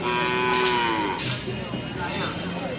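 Several small cattle moo nearby on Sapudi Island, Indonesia, long low calls overlapping one another against a busy background of farmyard noise at a festive gathering.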